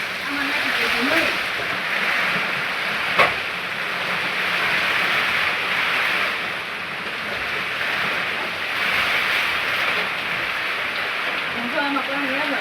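Heavy downpour roars steadily, with a dense, even hiss of rain striking surfaces. Voices murmur faintly beneath it now and then.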